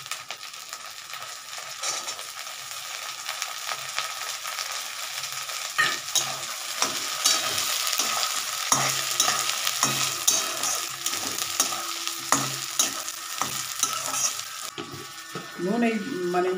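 Green peas, chillies and coconut fry in a pan for a banana-flower dish, giving a steady sizzle. A spoon scrapes and stirs again and again, and a voice is faintly audible now and then.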